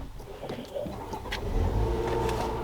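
A 2024 GMC Acadia Denali starts up with a brief crank and then a rising engine hum that settles into a steady idle, heard close and alone.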